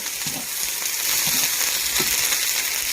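Garlic sizzles in a hot pan during the making of tostones sliders, a close, continuous crackling fry with small bubbling pops and a few soft stirring sounds.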